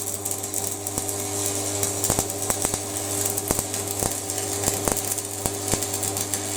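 A cheap Chinese angle grinder runs with a steady loud motor whine and hum, broken by scattered clicks and ticks, close and alone.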